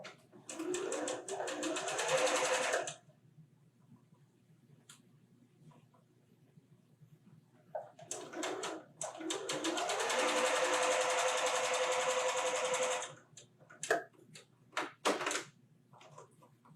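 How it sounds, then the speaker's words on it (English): A sewing machine joins quilt pieces in two runs of fast, buzzing stitching, the first short and the second longer, fairly quiet, with soft clicks and light handling noises between. "we're going to sew these two together now"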